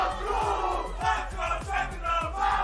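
Crowd of fans at a Valorant esports match in an arena, loud sustained cheering with rhythmic chanting and repeated booming beats like thundersticks or drums, dense and close.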